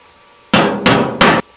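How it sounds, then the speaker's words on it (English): Hammer blows on a chisel punching a starter hole in a metal tin for a homemade rocket stove: three loud, sharp metallic strikes, evenly spaced and close, each ringing briefly, with no talk. "You'll need the hammer and chisel to begin the hole."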